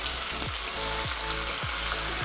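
Small onions, garlic, ginger and tomato sautéing in a pan for a king fish curry with young mango: loud, constant frying hiss with rhythmic scraping strokes of a spoon repeating roughly every half second.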